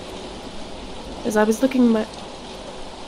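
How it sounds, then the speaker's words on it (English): Steady rain pattering in a video game, a constant hiss running through the whole stretch while a voice speaks briefly over it in the middle. "The rain's penetrated my cloak and coat, getting straight to my skin."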